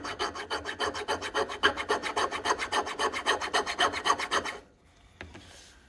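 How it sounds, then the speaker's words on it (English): A crosscut metal file rasps rhythmically across a steel edge, about twenty quick even strokes close up, then stops. "we're going to try to remove that edge and see how well this file works"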